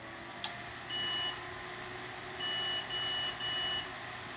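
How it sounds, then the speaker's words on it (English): Faint electronic motherboard beep codes from a PC failing to boot sound over steady fan hum: one long beep, then three shorter beeps in a row, with a small click at the start. "the motherboard would fail to boot with some beeps"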